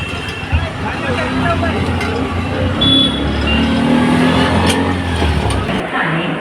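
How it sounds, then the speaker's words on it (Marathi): Riding inside an auto rickshaw, with a steady engine drone and road rumble throughout and some traffic noise around it. People talk over the ride. "रिक्षात बसलो आहोत"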